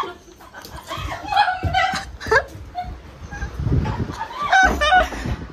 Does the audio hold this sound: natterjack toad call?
no